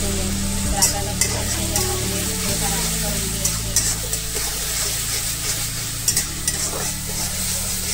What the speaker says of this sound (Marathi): तेलामध्ये व्यवस्थित असं गरम करून घ्यायचं